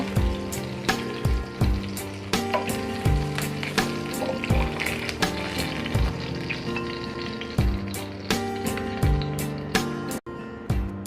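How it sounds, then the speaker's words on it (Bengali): Chitol (clown knife fish) pieces fry in oil with a steady crackling sizzle, cut by regular sharp taps and set over a tonal, musical background throughout. "মাছ ভাজা আমার হয়ে গিয়েছে। এখন আমি মাছটি উঠিয়ে নেব।"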